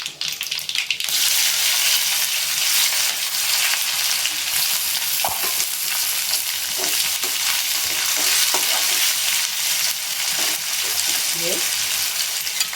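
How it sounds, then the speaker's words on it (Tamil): Onions frying in a pan with mustard seeds and urad dal for a Tamil dal and tomato rice, a loud continuous close sizzle with repeated spatula scrapes and clinks, no talk. "கடுகு உளுத்தம் பருப்பு செவந்துச்சு இப்போது நான் இதில் வெங்காயத்தை ஆட் பண்ணுறேன்"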